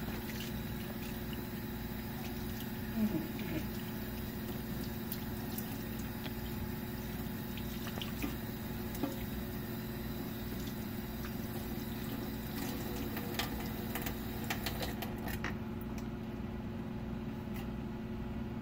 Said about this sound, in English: Wash my hand, and then now rinse my hand.